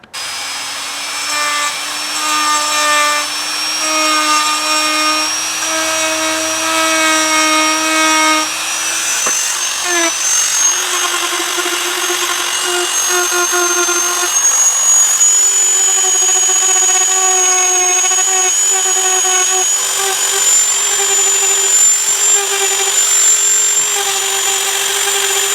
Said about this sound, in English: So I'm going to have to grind that out because I can't just go over it.